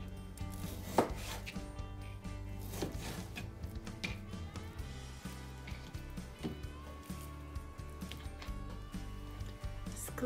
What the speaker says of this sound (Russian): Вот так вот примерно нарезаем вот такие кусочки.